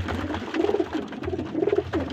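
Pigeons coo at close range in repeated soft, throaty phrases, two or three rolling coos spaced about a second apart, with low background rumble and no talking.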